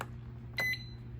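The timer on a Presto Precise digital pressure canner gives one brief electronic beep, a short double-toned chirp standing out over a low steady hum.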